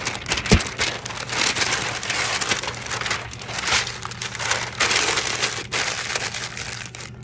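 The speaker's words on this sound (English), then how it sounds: "So all I'm doing is crumpling a few pieces up to make a solid core" Sheets of paper crumpled by hand into a solid core for a mold, a dense continuous crinkling and crushing with a sharp crackle near the start, close up and steady throughout with no talking.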